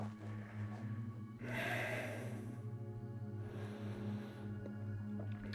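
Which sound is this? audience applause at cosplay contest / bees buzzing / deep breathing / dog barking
deep breathing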